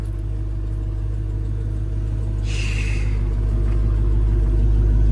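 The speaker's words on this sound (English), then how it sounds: "That exhaust note, that rumble is amazing." A Corvette Z06 idles at a car dealer auction with a deep, steady exhaust rumble, loud and close, swelling slightly toward the end with no voices over it.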